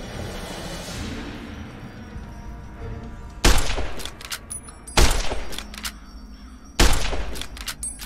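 Gunfire in Fallout: New Vegas, three loud sharp shots spaced a second or two apart, each with a short echoing tail, over a low ambient rumble.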